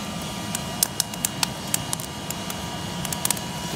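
A hair dryer blows air onto an outdoor campfire on an autumn fishing trip, giving a steady close whooshing rush broken by scattered sharp crackles and pops from the fire.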